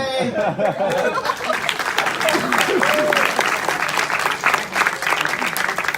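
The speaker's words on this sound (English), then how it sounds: "big round of applause for Vivith K." Convention crowd at a comic con live game show breaks into steady, loud applause with cheering and scattered voices and laughter mixed in, sustained for several seconds.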